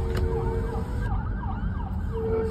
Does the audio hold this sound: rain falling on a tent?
no